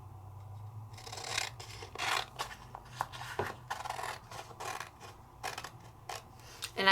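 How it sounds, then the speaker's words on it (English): Scissors snipping sticky dots out of a sheet, a run of close, crisp cutting strokes in irregular bursts with quiet rustling between them. "now I'm going to cut my sticky dots out"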